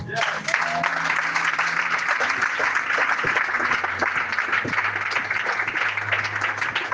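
A church congregation applauds at a Sunday service, sustained, dense clapping from many hands that fills the room evenly, with voices mixed in beneath the claps.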